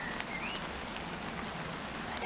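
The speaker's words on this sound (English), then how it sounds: "Now it's raining." Steady rain falls on a soggy back garden, a dense continuous patter at moderate level with no voices, holding evenly for a couple of seconds before swelling slightly at the end.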